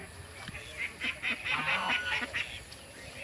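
Farm ducks honking and quacking in a rapid run of calls, close and moderately loud over a steady background hiss, with no talk.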